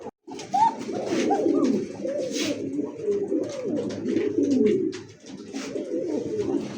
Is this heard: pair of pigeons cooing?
yes